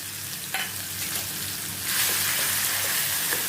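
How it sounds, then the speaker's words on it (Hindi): Grated onion frying in a pan with crackling cumin seeds, a close, continuous sizzle with stirring scrapes that swells louder partway through. "अभी ये जीरा क्रैकल करने लगा। इसमें मैं ये ग्रेट किया हुआ प्याज डालती हूँ।"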